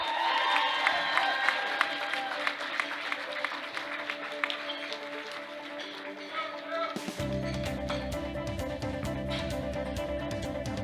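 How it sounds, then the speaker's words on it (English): Applause from the crowd at a masters powerlifting world championship greets the 93 kg deadlift medalists, a steady, dense wash of clapping with scattered cheers that carries through the whole stretch alongside a low musical hum. "Another round of applause, please, for your deadlift medalists in the 93 kilo class"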